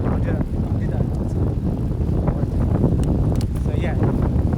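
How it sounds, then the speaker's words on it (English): Wind buffets a microphone on a moving bicycle along a cycling road, a constant rumbling roar with gusty flutters heard under someone talking throughout. "hopefully you can still hear me because it's quite windy"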